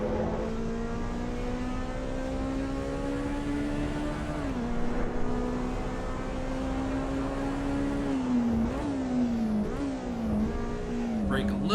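A race car engine screams at full throttle in the video game Assetto Corsa EVO: a loud, steady high-pitched drone whose pitch holds, dips briefly with gear changes and climbs again near the end.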